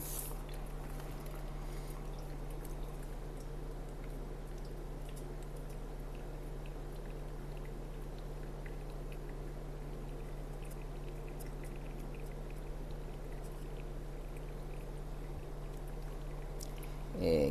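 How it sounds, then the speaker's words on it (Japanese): Hot water poured in a thick stream over coffee grounds in a flower dripper to let them bloom. It makes a steady, soft, continuous trickle with a faint bubbling hiss and a low background hum. "今日もどちらかというと、太めのお湯を使った蒸らしをやっております"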